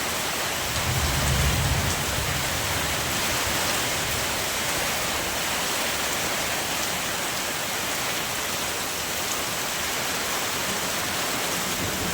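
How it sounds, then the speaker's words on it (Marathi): Heavy rain pours in a dense, constant hiss, with a brief low thud near the start and no voices. "तुफान पाऊस आहे तुफान"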